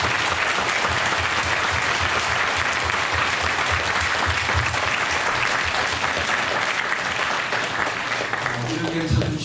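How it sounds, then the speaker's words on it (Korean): Sustained applause from a church congregation fills the room for about nine seconds, a dense steady wash of clapping honouring a violinist and performers, with faint voices and movement underneath. "큰 박수 한번 드리겠습니다."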